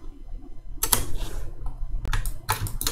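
A computer keyboard is typed on in a few quick bursts of close, crisp key clicks separated by brief pauses.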